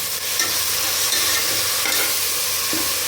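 Onions and a ground paste sautéing in a hot pan for tomato rice, a continuous loud oily sizzle with scraping stirs of a spatula close up, no voices.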